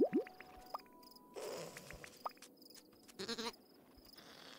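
A few short sheep bleats from the video game Carto, sharp and close at the start, then sparse soft chirps and small clicks over a quiet, faintly buzzing background.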